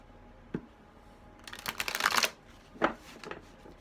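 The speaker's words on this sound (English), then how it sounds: "And of course, while I'm shuffling," A deck of playing cards is shuffled close by, a soft riffle burst swelling for about a second followed by a couple of short flicks and taps, with no talk over it.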